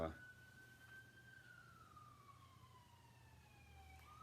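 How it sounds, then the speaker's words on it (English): An ambulance siren passes in the distance, its wail holding steady and then sliding lower as it moves away, faint over a low background rumble. "there goes an ambulance or something going by"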